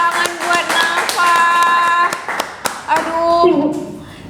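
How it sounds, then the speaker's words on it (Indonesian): Scattered clapping from an audience for Nafa, a young gold medal winner, with individual sharp claps standing out against overlapping voices and sustained tones throughout. "Sekali lagi dong tepuk tangan buat Nafa"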